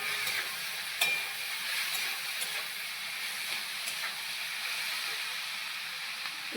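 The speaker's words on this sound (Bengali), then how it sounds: "মশলাটা দিয়ে এবার একটু কষাই" Spices and ginger-cumin paste sautéing in a pan, a steady moderate sizzle with soft stirring scrapes and an occasional sharp utensil tap, no voices.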